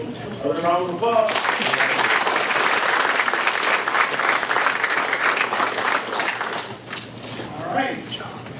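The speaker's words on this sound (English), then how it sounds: "Another round of applause." Room of attendees at a school board meeting breaks into applause, a dense run of clapping after a brief voice at the start, tapering toward the end as a voice returns over a few scattered claps.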